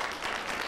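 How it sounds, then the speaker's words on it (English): Audience applause at a 1993 FACS Knowledge Bowl quiz in Memphis, a dense, steady patter of many clapping hands filling the room without a break. "You can applaud that answer."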